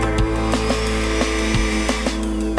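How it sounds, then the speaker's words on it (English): A power polisher buffing a car at a car show whirs loudly and close. The steady motor tone is broken by brief pulsing surges as the pad moves across the panel. "Let's get polishing."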